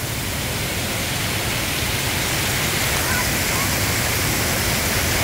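Water splashing and pouring down at an indoor water park, a steady loud rush of falling water filling the whole clip without a break.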